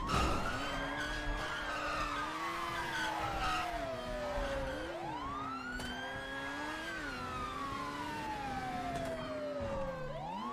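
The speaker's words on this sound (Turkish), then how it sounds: "Oğlum bu araba çok fena gidiyor lan bu T20." T20 sports car racing in GTA V, its engine screaming as it climbs and drops through gear changes while the tires skid and squeal. The sound is steady, loud and continuous throughout, with no voices.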